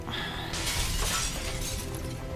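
Glass shatters in the video game XCOM 2: a sharp, bright crash of breaking glass that bursts in after a short lead-in and scatters into tinkling fragments under a low game rumble.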